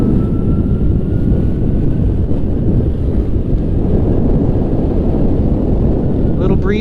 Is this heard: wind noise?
yes